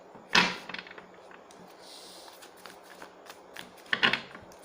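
Deck of cards shuffled during a yes-or-no card reading, two quick riffling bursts close by with quiet handling in between.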